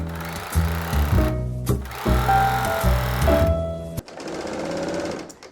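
A serger finishing the raw bottom hem edge of a garment from a vintage Vogue 9255 pattern, running in loud mechanical bursts with short pauses between, then a softer whirring stretch at the end.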